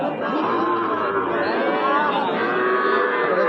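Deshi and Sahiwal cattle, including calves and heifers, low and moo repeatedly at a busy cattle market in Ambari. Drawn-out, close calls overlap one another above a steady murmur of crowd chatter.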